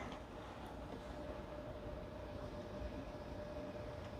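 A model railway train runs on a layout with a steady, quiet mechanical whir and a faint hum, continuous and unchanging throughout.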